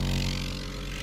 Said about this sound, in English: That noise you can hear is the vacuum being made